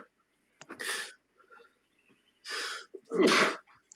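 A person sneezes three times in close succession on a voice call, each burst sharp and breathy, with short gaps between them; the second and third come quickly one after the other.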